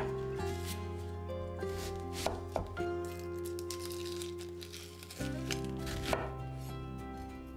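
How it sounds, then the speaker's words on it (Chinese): Half an onion being cut into large chunks on a board makes a run of close knife chops, irregular and fairly quiet, with a background hum and no talk. "洋葱就取1/2颗切大块状，"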